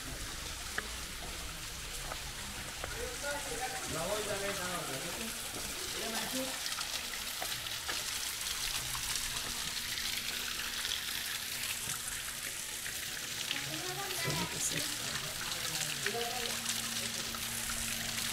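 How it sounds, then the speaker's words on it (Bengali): Waterfall water pouring and splashing at close range, a steady broadband rush that holds throughout while people speak over it. "কিভাবে ঝর্ণার পানি পড়ছে দেখতে পাচ্ছেন আপনারা"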